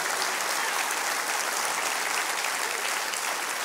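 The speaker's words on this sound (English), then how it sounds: "Clap your hands real big, because that's the word." A church congregation claps hands vigorously during a sermon, producing a dense, continuous roar of applause at steady loudness throughout.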